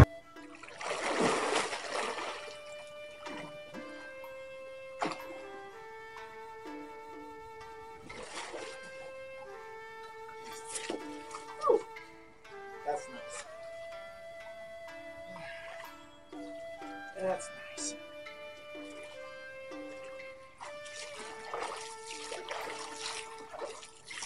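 Water splashes and sloshes in bursts as someone moves through it, with sustained tones from quiet background music and occasional bird calls.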